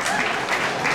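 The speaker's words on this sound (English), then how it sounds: "big clap there for our Prime Minister" Brief, dense burst of audience applause for the Prime Minister at a house opening ceremony, steady and fairly close.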